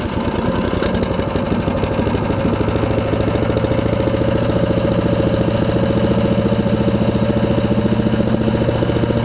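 A Predator 212cc, 6.5 HP gas engine on a Harbor Freight chipper shredder idles at low RPM. It gives a loud, steady, close-up chug with a rapid, even knocking pulse and no talking over it.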